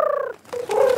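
A voice imitates a pigeon, giving a short, loud, throaty coo in two rising warbled parts, close up in a cartoon scene.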